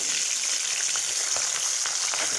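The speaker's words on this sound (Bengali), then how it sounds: "আর একদিকটা ভেজে নেব আমি এইটা টাটকা বাটা মাছ তাই আমি খুব কড়া করে ভাজবো না হালকা ভাজবো" Fresh bata fish fry gently in hot oil, giving a steady, dense sizzle and crackle close up with no pauses or voices.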